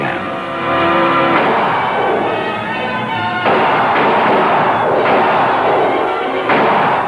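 Three heavy gunshots blast out at intervals over a swelling orchestral score in a campy Western vampire horror film, Billy the Kid vs. Dracula, each a sharp, loud burst.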